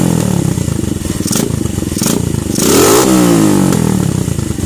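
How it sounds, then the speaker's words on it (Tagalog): A motorcycle fitted with a bullet-pipe exhaust revs hard and loud up close, its engine note rising and falling with sharp popping backfires crackling through the revs. "tapos naka bullet pipe. So ang nangyayari, parating nagba-backfire."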